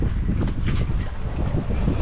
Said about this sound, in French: il y a un bon vent, hein, il y a 15 nœuds de vent